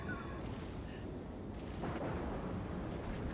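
Explosions and gunfire rumble continuously as a warship comes under attack in the naval combat game World of Warships, a dense, steady low boom filling the whole stretch with no pauses.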